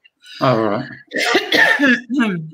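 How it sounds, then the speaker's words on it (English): A person on a livestreamed psychic reading session coughs and clears their throat in short, close bursts between brief spoken words. "No, I didn't sneeze, I coughed."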